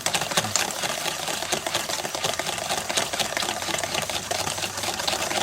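Eggs and heavy cream for carbonara are whisked in a bowl, making a steady, rapid clicking and scraping rhythm close up, continuous and fairly loud throughout.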